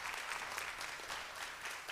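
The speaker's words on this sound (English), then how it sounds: "Can we give him a big round of applause again?" Audience applauding at a school Native American storytelling and dance event, a steady, fairly faint wash of clapping from a crowd for the whole stretch.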